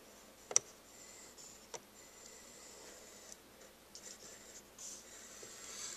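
A scoring tool drawn along cardstock at 6.5 inches, giving a few faint, close scraping strokes and soft ticks in an otherwise quiet room.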